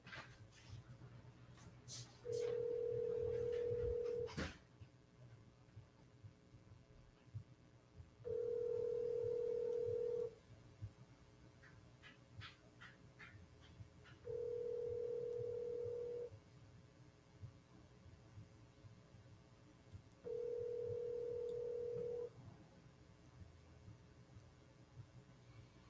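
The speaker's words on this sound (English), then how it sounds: "I'm gonna call this person back." A telephone call rings out while someone tries to call back a person: four long, steady ringback tones, evenly spaced and several seconds apart, sound over faint background room noise and small clicks.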